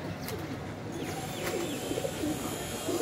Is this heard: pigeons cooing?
yes